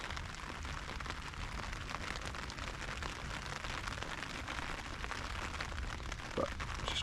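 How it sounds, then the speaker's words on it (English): Persistent rain falls steadily on an outdoor fishing spot, a dense, even hiss of drops pattering on surfaces that holds unchanged throughout, moderately loud and close, with no talking. "it's gone a fair bit quieter since this rain's got a little bit more persistent"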